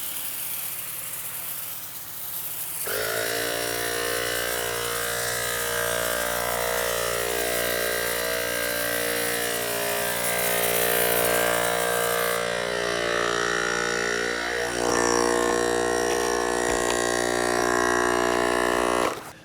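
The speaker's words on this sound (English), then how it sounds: "The foam spray is a little bit wider than I would like" A steady motorized hiss and drone of an IK e-foam Pro 2 battery-powered foam sprayer running continuously with a wide spray, a shift in pitch partway through, no talking.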